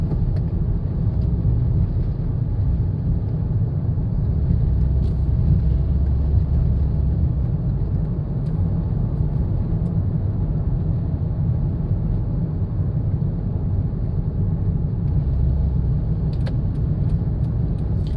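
Cars in a VIP guest delegation roll past near a railway station, producing a steady, continuous road rumble and engine drone that holds at an even level throughout.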